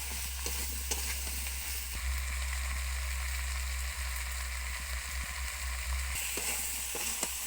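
Malabar spinach and pumpkin sauté in a pan with salt, giving a steady close sizzle with occasional stirring scrapes and taps throughout, no talking.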